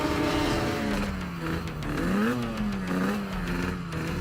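Banshee-powered Yamaha YZF R3 on a race warm-up lap, a continuous engine whine whose pitch rises and dips with throttle changes, heard from onboard at moderate level.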